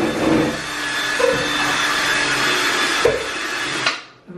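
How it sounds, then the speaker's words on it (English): A continuous whirring motor with a scrubbing, brushing texture runs for several seconds, then cuts off abruptly near the end. "brush it with the drill"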